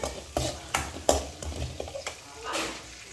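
A carrot pickle base with garlic and curry leaves, stirred in hot oil: rhythmic scraping strokes about every third of a second over a soft sizzle, close by, with no speech.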